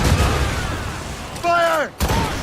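Ship cannon fire in Assassin's Creed Rogue: broadband booming blasts fill the clip amid a noisy naval battle, with a shouted voice cutting in near the end before another burst.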